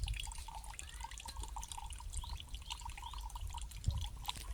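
Coconut water dripping and trickling out of an opened coconut, a steady run of small liquid drips close by, with no talk.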